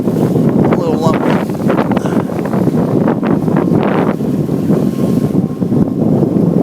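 Strong wind buffets a sailboat under sail in 30-knot gusts, loud roaring rumble against the microphone with bursts of rushing air and water noise, continuous and close.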